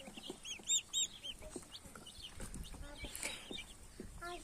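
Young turkey poults kept in a farmyard as a new poultry breed peep and chirp in short high bursts close by, with soft clucking and scattered rustling outdoors.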